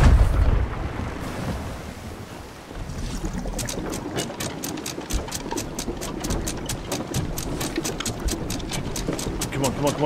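Ocean waves and wind in the Sea of Thieves game, a steady rushing wash at close range with a low rumble underneath, joined after a few seconds by a rapid run of regular clicking ticks.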